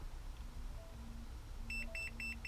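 Several short, evenly spaced high electronic beeps from a continuity test on car window wiring near the end, after a few fainter tones, over a low steady hum.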